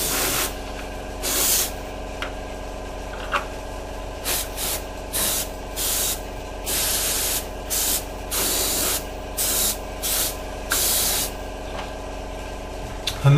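An airbrush sprays paint onto a Revell 1/48 F-15E Strike Eagle model, heard as repeated bursts of close hissing spray that start and stop across the stretch, over a faint steady background hum.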